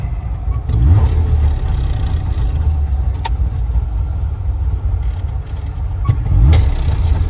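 An IFA Framo van from VEB Barkas-Werke Hainichen rumbles at idle, heard from inside the cab as a steady, loud low engine drone with a couple of brief swells and faint clicks.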